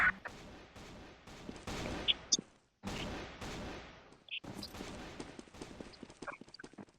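Video game gunfire and explosions sound in rapid bursts, with repeated sharp shots and booming blasts coming in clustered volleys separated by short pauses at moderate loudness.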